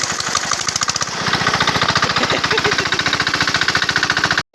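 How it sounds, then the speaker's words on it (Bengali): An irrigation water pump engine at a village potato field runs loud and close in a fast, steady thumping chug, then cuts off abruptly near the end. "মেশিন স্টার্ট হয়ে গেল"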